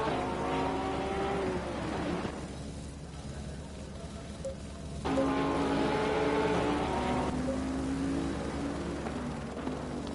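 Race cars lapping the Zandvoort circuit in Assetto Corsa Competizione, engines droning and shifting pitch as they pass through a corner, with a brief dip before a louder car sweeps close by.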